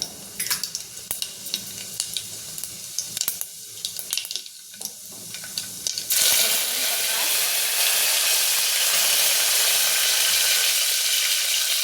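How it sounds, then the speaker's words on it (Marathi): Mustard seeds and cumin hit hot oil for masale bhat, first with scattered crackles and stirring clinks, then a sudden loud, continuous sizzle that holds steady to the end. "आधी आपण मोहरी टाकायची, जिरं,"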